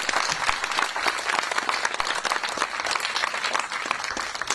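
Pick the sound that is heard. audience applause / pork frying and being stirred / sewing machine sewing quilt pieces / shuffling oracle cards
audience applause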